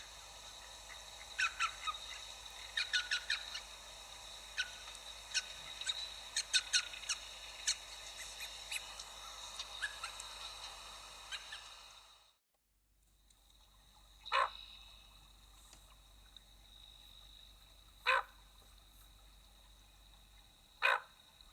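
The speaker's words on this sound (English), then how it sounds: "Ring-necked ducks make a series of short, high-grading barks or grunts." Ring-necked ducks give a series of short, high barking calls in a wetland, at first in a clustered run over steady outdoor ambience and then as sparse single calls after a short break.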